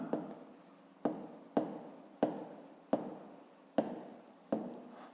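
Pen strokes on a notebook page while a fifth-grade math exercise is worked out, a steady series of scratchy writing sounds, each burst starting sharply and trailing off, repeating about every second, close and fairly quiet.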